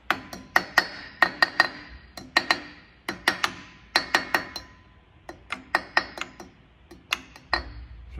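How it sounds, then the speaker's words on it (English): Sharp metallic hammer strikes on Land Cruiser front axle parts ring out in quick bursts of three or four, pausing briefly between groups, close and clear. "Grab a hammer."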